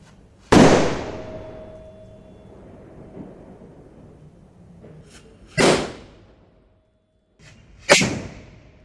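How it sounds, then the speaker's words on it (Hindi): A hydro cracker firecracker set off at Diwali bursts with a loud, sharp bang that rings out and decays, followed by two more booming blasts several seconds apart, with quieter gaps between. "देखते कितनी ज़ोरदार आवाज़ करता है ये हाइड्रो क्रैकर।"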